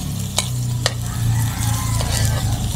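Garlic frying in a pan for a black bean fish dish, a close crackling sizzle with a few sharp scrapes of a stirring utensil against the pan, no voices.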